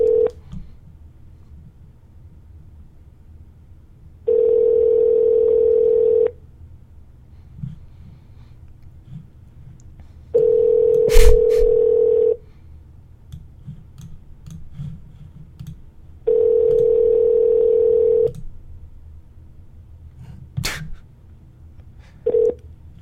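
Telephone call being placed on a live prank-call show: three long steady dial or ringback tones separated by pauses, with brief clicks and a short beep near the end, fairly loud and with no talking.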